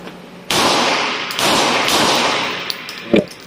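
Several rapid shots from a stainless Beretta 92FS 9mm pistol with a five-inch barrel ring out at a shooting range, loud sharp cracks in quick succession with a softer crack near the end.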